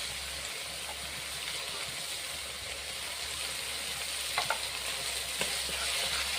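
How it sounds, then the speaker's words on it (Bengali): A spice paste with ginger paste and yogurt is frying in a pan under a steady, close hiss of sizzling, with a few faint scrapes of stirring toward the end. "আদা বাটা দিয়ে দিচ্ছি।"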